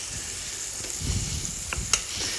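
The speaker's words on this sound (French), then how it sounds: "Allez, on va faire revenir les oignons avec." Onions fry in a pan with bacon as a soft, steady sizzle with a few faint stirring scrapes and small pops, quiet and close.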